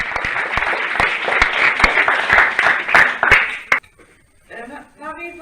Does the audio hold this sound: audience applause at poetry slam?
yes